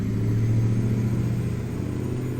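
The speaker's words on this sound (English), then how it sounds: "Listen to that engine." A 1978 Mack ENDDT865 V8 truck engine in American Truck Simulator drones steadily under load, a loud deep rumble with a droning mid-range tone and no pauses.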